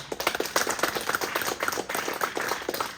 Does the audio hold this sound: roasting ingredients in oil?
no